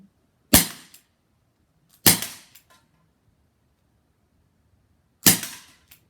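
Three sharp, loud shots from a Crosman SNR 357 BB revolver air gun, spaced irregularly with brief pauses between them, each a crisp crack with a short tail and no talking.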